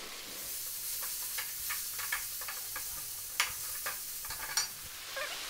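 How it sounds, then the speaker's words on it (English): Onions frying with bay leaves, cassia bark and cardamom pods in a pan for an organic rooster chicken curry, giving a steady low sizzle with scattered ticks and light stirring clinks, no voices. "while the onions are frying away, we're going to add the chicken"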